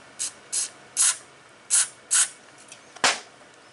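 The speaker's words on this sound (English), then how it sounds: "look, the spray's going through it now" Carburetor cleaner sprays through the idle jet of a Honda GL1500 Goldwing carburetor in six or seven short, sharp hissing bursts, evenly spaced and close, with no talking.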